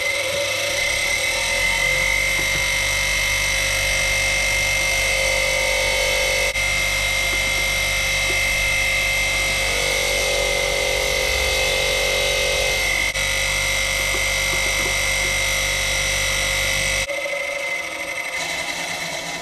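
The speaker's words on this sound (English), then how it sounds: "That's when I've polished it up within the wire wheel there." A wire wheel spins against a brass engine part during engine rebuild prep, giving a steady, loud whirring grind with a motor drone underneath that runs unbroken for most of the stretch and then drops away near the end.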